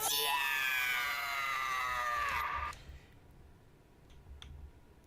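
A loud, piercing high-pitched scream holds for over two seconds and then cuts off abruptly, leaving faint clicks and quiet background afterward.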